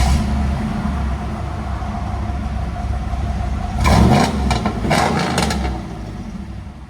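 A 1995 Chevy Camaro Z/28 with a 388 stroker V8, headers and a Gibson cat-back exhaust idles with a steady rumble, then barks through several sharp throttle blips close by before settling back to idle.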